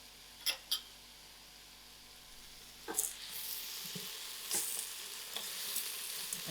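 Tomatoes and salt hitting hot oil in a pot for spicy lentil soup, giving a low steady sizzle with a few sharp clatters near the start and louder bursts of frying as ingredients drop in.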